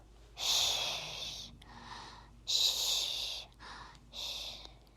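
A voice imitates loud snoring, with rough, noisy snorts and long breaths coming in uneven bursts separated by short pauses.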